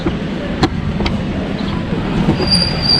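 An electric train rumbles past at moderate distance in a Chinese city street, with a couple of sharp clacks and a faint high squeal from the wheels.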